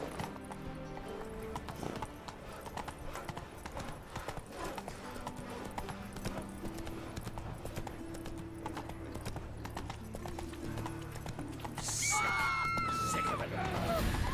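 Horse galloping in The Witcher 3, a steady run of hoofbeats under game music and ambient sound, with a whinny-like call and a brighter rise in the final seconds.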